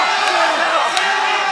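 A packed pro-wrestling arena crowd at a NOAH match between Kenoh and Takashi Sugiura roars and cheers in one thick, continuous wall of sound, with a couple of sharper shouts rising out of it.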